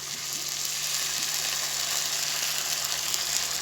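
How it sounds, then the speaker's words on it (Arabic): Onion and garlic fry in a pan as soy sauce is added, giving a steady, close hiss of sizzling oil with faint stirring throughout and no voices. "هنا معايا صويا صوص، هضيف شويه على البصله"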